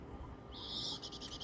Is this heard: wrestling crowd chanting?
no